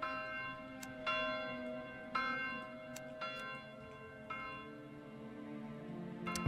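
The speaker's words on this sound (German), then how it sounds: "Die Kirche läutet." Church bells peal in a medieval village in the game Manor Lords, a series of uneven strikes roughly every half second to second over a sustained ringing hum, moderately distant with no talk.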